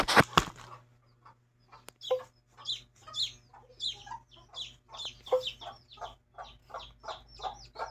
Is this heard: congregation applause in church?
no